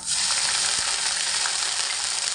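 Ginger paste goes into hot oil with whole cumin, black cumin, two cardamom pods and a piece of cinnamon. It gives a loud, dense, close-up sizzle that holds steady throughout, with a single faint tap and no speech.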